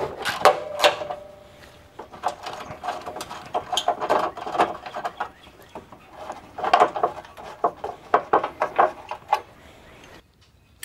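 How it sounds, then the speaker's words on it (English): A quarter-inch ratchet with a 10 mm socket loosens bracket bolts on a 2009–2015 Honda Pilot during alternator replacement, giving close bursts of rapid clicking and metallic rattles in several separate runs. "So I'm using a 10 millimeter and a quarter, quarter inch ratchet."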